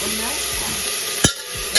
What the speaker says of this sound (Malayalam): ആ തുവരപ്പരിപ്പ് ഒന്ന് ആ എണ്ണയ്ക്കകത്തൊന്ന് വഴറ്റണം.